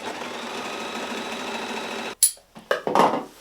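A domestic sewing machine stitches pants seams in a steady, even whirr for about two seconds, then stops, followed by a few short handling clunks and rustles nearby.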